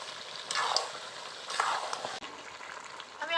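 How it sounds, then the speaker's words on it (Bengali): Chicken curry fries in its own released oil in a pan, giving a steady soft sizzle with bursts of louder crackling as it is stirred, close and without talk. "চিকেনটা থেকে অনেকটা তেল ছেড়েছে, দেখতেই পাচ্ছেন। ভালো করে নাড়াচাড়া করে দেবো"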